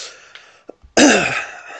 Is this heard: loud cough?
yes